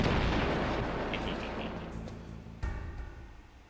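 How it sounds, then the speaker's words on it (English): Two explosions in the Metal Gear Solid game on the Shadow Moses mission: a loud blast decays into rumbling debris, then a second sharp boom lands near the end. "Double explosion, double the fun!"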